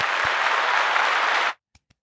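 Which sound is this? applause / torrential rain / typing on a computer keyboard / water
applause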